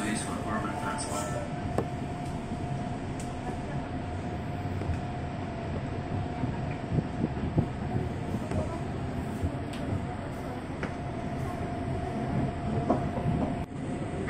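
An Indonesian KRL Commuter Line train rides along the rails with a steady rumbling interior hum and light clatter, recorded from inside the carriage under announcements and talk.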